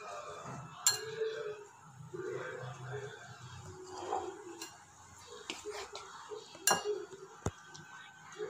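Cake batter of sugar and cream being mixed by hand in a bowl for an eggless cake, heard as soft scraping and clinking of a spoon against the dish with sharp clinks throughout, quiet and close.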